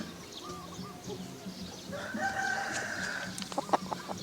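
Burmese fighting-breed hens cluck softly nearby, and a louder burst of rooster-like calls and sharp clucks comes toward the end, with no talking.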